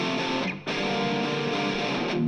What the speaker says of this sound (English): all the reverb that you're hearing in there is coming out of the room from the Quad Cortex